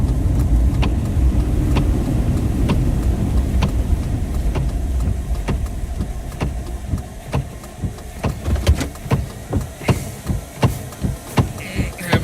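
Pickup truck engine idling while stopped during an overnight storm chase in West Texas, a steady low rumble at first, then giving way to a series of regular sharp knocks or ticks spaced about half a second apart, fairly close.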